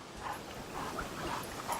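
A Kangal shepherd dog in the Erzurum mountains whimpers and gives short yips, soft and fairly distant over steady outdoor background noise.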